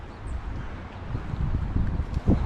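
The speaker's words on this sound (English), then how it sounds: "It's that windy" Strong wind buffets the microphone with a steady low rumble and gusty surges, louder toward the end.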